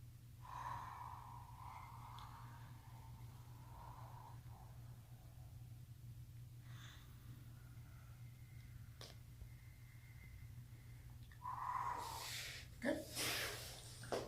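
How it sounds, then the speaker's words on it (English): Slow, deliberate breaths accompany a push-up breathing exercise in a Systema stretching session, faint inhalations and exhalations over a low steady hum, ending with a few sharper, louder exhales. "Try to hear your breathing, right? So inhale,"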